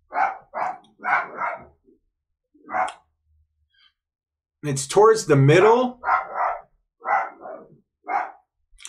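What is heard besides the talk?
dog barking outside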